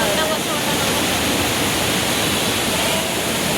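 Loud, constant rushing water close by, a dense roar of flowing current with no pauses.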